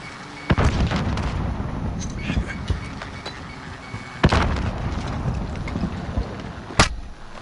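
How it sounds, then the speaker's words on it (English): Grenade explosions in a PS4 video game: three sharp, booming blasts spaced several seconds apart, each standing out over a steady background din of game noise. "Grenade out!"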